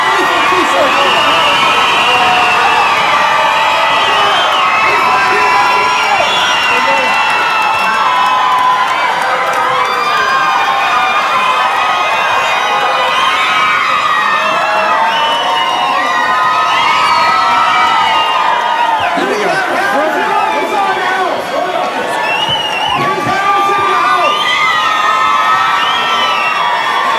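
A packed gathering of children and adults in Benton, Arkansas, at a community service day event, shouts and cheers continuously at a steady loud level, with excited whoops rising through the sustained din.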